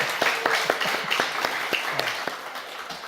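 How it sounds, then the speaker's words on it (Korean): A church gathering audience breaks into scattered, moderate applause, individual claps distinct and irregular as it tapers off. "박수 한번 칠까요?"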